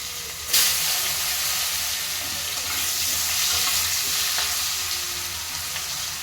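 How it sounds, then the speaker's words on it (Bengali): Potatoes frying in hot oil in a wok for a Bengali fish curry, a loud, continuous close sizzle and hiss with a brief sharp crackle near the start and faint stirring scrapes. "প্রথমে আমি আলুটাকেই ভেজে নেব"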